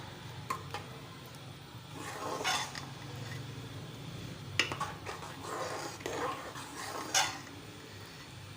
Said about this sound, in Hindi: अब इसको मैं अच्छे से हिला दूँगी ताकि गाजरे भी जो है